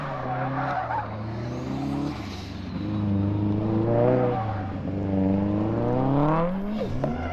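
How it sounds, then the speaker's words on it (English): A car drifts in tight donuts at a beginner drift event, tires squealing continuously over a revving engine that rises and falls in waves, loud and close. "there's this area down here where we're doing donuts"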